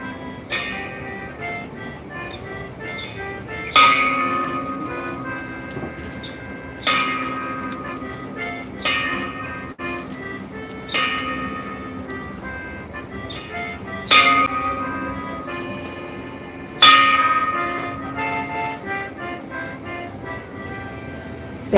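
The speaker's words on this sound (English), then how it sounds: "The bell is rung 8 times, which marks the end of a pirate's final watch" Ceremonial bell struck at an induction ceremony, sharp ringing strokes at uneven intervals, each left to decay, with a faint hum and occasional clinks between them.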